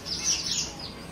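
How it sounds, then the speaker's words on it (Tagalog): Small birds like lovebirds give brief high chirps, a couple of thin tweets close by over a faint background. "Parang lovebirds."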